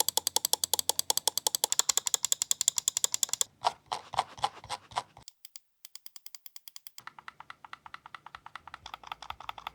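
Buttons on a Lofree PBT wireless mouse click in rapid, crisp runs, close and fairly quiet, with a brief gap of silence midway before the clicking resumes at a steady pace.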